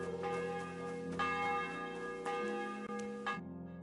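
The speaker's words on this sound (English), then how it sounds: "The bell's ringing for Hans the 5th time." A church bell tolls in the medieval world of Kingdom Come: Deliverance II, rich sustained ringing with a few struck peaks layered over a long humming decay, loud and close, then cutting off abruptly near the end.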